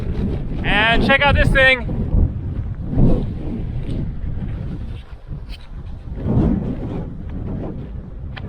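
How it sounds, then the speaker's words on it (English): Strong wind buffeting the microphone with a loud rumbling roar throughout on a hiking trail on Ikaria Island, Greece, while a person speaks briefly near the start. "It is getting windy."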